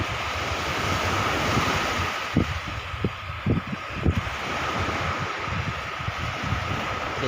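Waves and wind at Pulau Ruku beach in Aceh Tamiang: a constant broad roar of surf with wind buffeting the microphone, and a few soft thuds of breaking water.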